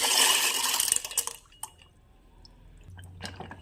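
Water from a glass is poured into a pot for boiling pasta, giving a loud splashing gush for about a second, then quieter scattered drips and small knocks alone.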